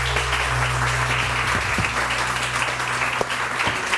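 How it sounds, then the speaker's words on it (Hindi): An audience claps for a woman called to the stage at a live event, a thick, steady wash of applause with a low hum underneath and a few voices murmuring beneath it. "बहुत सारी तालियां इनको।"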